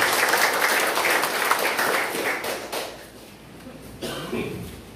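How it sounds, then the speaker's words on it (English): An audience applauds a municipal mayor at a local governance event in Hilongos, Leyte: steady, dense clapping that fills the room and slowly thins out toward the end. "A round of applause,"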